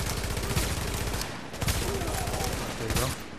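Rapid gunfire from a shooter video game set in a dark zone, dense bursts of shots layered with game effects and music, loud and continuous with brief pauses between volleys.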